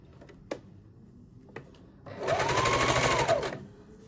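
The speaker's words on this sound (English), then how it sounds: "So I just go under this stitch with a parallel row of stitching" A sewing machine runs a parallel gathering row through fabric for a fabric rose brooch, a close whirring burst of about a second and a half after a couple of isolated clicks.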